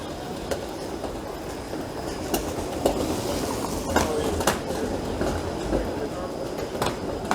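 A Toronto 501 streetcar rolls past on Queen Street downtown with a rumbling rail clatter and scattered wheel clicks, close and steady amid street noise.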